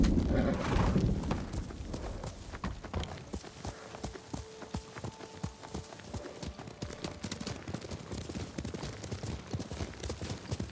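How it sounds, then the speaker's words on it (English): Horse hooves clip-clopping in a steady trotting rhythm in the video game Ghost of Tsushima, with a brief whinny early on and faint held musical tones underneath, moderately quiet. "Hey, und wo ist mein Pferd?"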